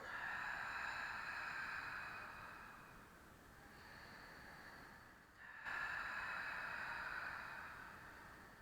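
Long, steady breath exhalations during a Pilates exercise, a close airy hiss that fades, pauses briefly, then returns just as strongly, with no talking over it.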